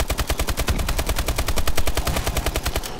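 Rapid, steady automatic gunfire from a weapon in Call of Duty: Advanced Warfare's Exo Zombies mode, a dense run of evenly spaced loud shots continuing without a break for the whole stretch.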